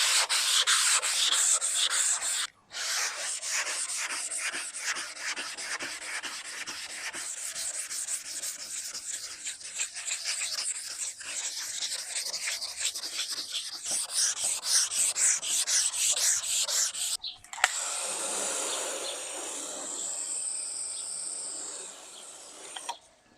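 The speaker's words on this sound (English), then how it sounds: "I just need to sand it enough to remove the scratches from the first round of sanding." Steady back-and-forth sanding strokes rasp against a Toyota TA22 Celica panel for a long stretch, rhythmic and close, then a brief pause and a softer, smoother rubbing.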